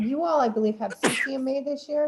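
One sharp sneeze bursts out in the middle of an informational meeting, with someone speaking before and after it.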